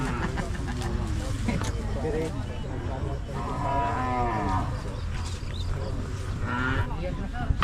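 Carabao, water buffalo, let out several long, rising moos at close range amid livestock noise, with people talking in the background throughout.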